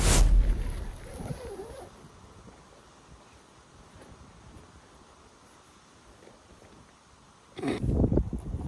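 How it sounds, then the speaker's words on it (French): Wind buffets a tent on a cliff-top bivouac at Crozon, a low rushing roar with heavy bursts of gusting at the start and again near the end, quieter and steadier in between. "Le vent, il passe de fou."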